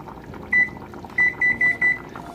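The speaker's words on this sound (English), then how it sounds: "We're going to set a timer at this point for 25 minutes." A kitchen stove timer being set for cooking chicken pelau gives a single sharp beep followed by four quick evenly spaced beeps over low background hum, with no talking.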